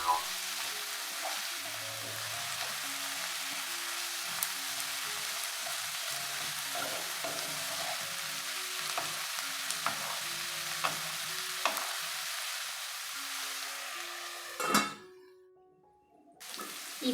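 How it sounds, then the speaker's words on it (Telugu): Amaranth leaves frying in a pan make a continuous low sizzle, broken by occasional scrapes and taps of a stirring spoon, then a sharp clatter near the end followed by a brief quiet. "దీనిని మనం మధ్య మధ్యలో తిప్పుకుంటూ బాగా వేయించుకోవాలండి."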